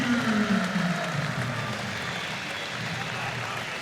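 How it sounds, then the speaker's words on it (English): Wrestling fans at Rec Hall applaud after a Final X bout at 65 kilos, a steady wash of clapping in a large arena with an announcer talking over it. "Logan getting some good applause from the fans here at Rec Hall"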